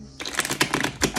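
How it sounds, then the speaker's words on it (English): A quick burst of rapid, crisp flutters and taps, close up and brief, like a deck of cards being riffled. "I feel like I need one more shuffle."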